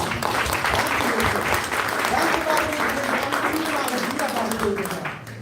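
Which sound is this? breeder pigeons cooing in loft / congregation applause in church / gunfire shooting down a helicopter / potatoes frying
congregation applause in church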